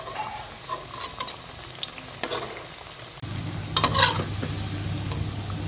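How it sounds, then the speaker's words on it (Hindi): Chicken keema pakoras frying in hot oil, a crackling sizzle with occasional scrapes, then a louder, fuller bubbling surge as the fritters are turned over. "दूसरी साइड से भी हम इसे गोल्डन कलर आने तक फ्राई कर लेंगे।"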